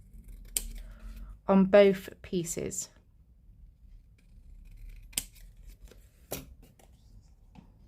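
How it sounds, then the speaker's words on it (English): Scissors snip around the edges of paper pieces for a hexagon Christmas treat box craft, a few crisp close cuts in bursts, with a person talking between them. "So all I'm going to do is just simply give the edges a slight trim all the way around"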